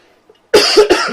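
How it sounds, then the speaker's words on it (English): A single harsh cough bursting out close and loud after near silence, followed by a second shorter cough, during a casual podcast conversation about the current world situation. "I keep coughing because of it."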